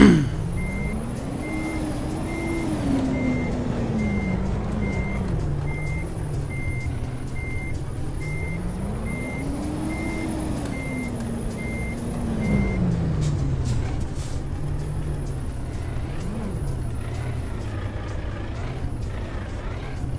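Truck with a trailer backing up in Euro Truck Simulator 2 on a Brazilian map, its engine drone rising and falling under a steady, evenly spaced reversing beep, with occasional air-brake hisses.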